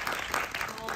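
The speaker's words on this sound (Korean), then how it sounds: "네, 잘 박수 한번 부탁드립니다" Audience applause at a film festival screening and talk event, a steady dense wash of clapping for its full brief second, fairly quiet and even in level.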